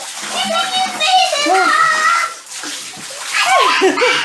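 Water pouring in from the side to fill an inflatable pool, a steady splashing gush heard under loud, excited talk from children and an adult.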